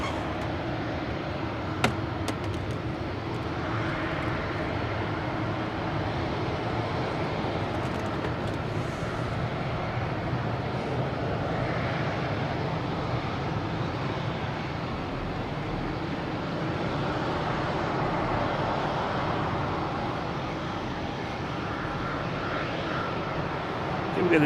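An Alaska Airlines airliner at Boston Logan Airport on a chilly night gives off a steady, moderately distant jet roar that holds even for the whole stretch, with faint background voices mixed in.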